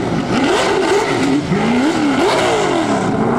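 A Buick drifting at Goodwood's turnaround spot, its engine loud and near, revving up and down in wavering surges as the car slides around, with faint tyre squeal under the roar.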